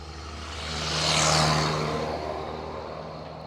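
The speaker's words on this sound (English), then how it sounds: "That's a tractor." A tractor rumbles past on a quiet woodland road, its engine swelling as it nears, peaking close by, then fading away with a steady low drone.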